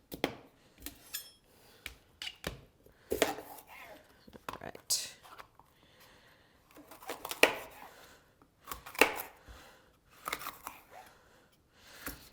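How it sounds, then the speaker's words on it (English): Knife chopping vegetables on a board while preparing a plant-based meal, giving irregular clusters of close, sharp cutting taps with quiet gaps between them and no speech. "You can see that I'm not a trained chef when I'm chopping things."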